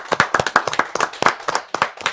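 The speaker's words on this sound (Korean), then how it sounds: "박수 주세요" Audience clapping in applause at a live technology evaluation show, brisk irregular hand claps from a modest crowd, close and fairly loud, continuing steadily throughout.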